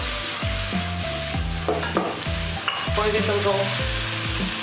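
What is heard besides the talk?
stir-frying pork slices and egg in a pan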